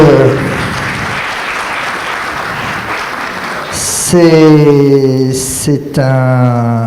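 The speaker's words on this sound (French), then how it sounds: "vous pouvez applaudir l'équipe d'organisation de l'AMIC" Steady, dense clapping from a crowd at a hypnosis conference fills the first few seconds, then gives way to someone speaking over fading applause.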